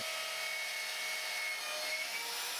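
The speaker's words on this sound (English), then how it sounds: "The holes that are currently being drilled are the ones which the saddles will screw into" Power drill boring holes into an anchor post for wire balustrade saddles, a steady, continuous high whine held at even loudness throughout, no voices.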